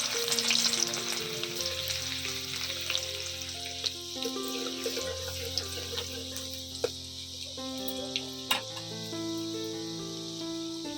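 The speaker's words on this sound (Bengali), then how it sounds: "প্রথমেই আমি ওই তেলের মধ্যে দিয়ে দিব রসুন কুচি।" Chopped garlic sizzles in hot oil for soya chilli, a steady close frying crackle with scattered pops and a clatter of cookware, and no voices.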